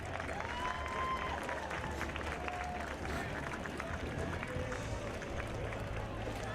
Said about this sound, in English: make sure you give the Sea Cadets a round of applause